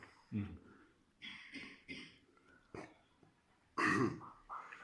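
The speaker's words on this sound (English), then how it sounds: "just clearing my throat" Someone clears their throat several times in rough, guttural bursts, with breathy grunts between them, close to the microphone.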